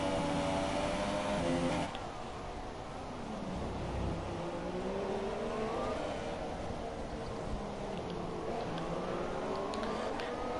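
Ferrari and Force India Formula 2 race cars battling in a racing video game at Brazil, engines whining steadily with rising and falling pitch sweeps as they run close together, a loud continuous drone throughout.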